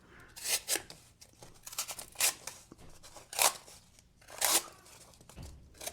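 A folding knife blade slices through taped cardboard in short, rasping strokes, several quick cuts in bursts, close up with no talking.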